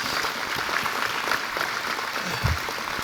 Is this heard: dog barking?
no